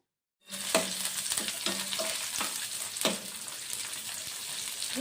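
Chopped tomato, onions and chana dal fry in hot oil for upma. A close, steady sizzle starts abruptly and is broken by a few sharp stirring clicks.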